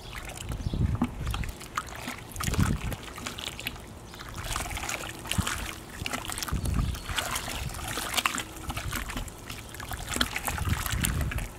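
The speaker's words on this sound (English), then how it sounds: "I'm splashing. We're not gonna wanna do splashing." Liquid in an iron indigo dye vat splashes and sloshes in repeated close, uneven bursts, with trickling and dribbling between them and no talk.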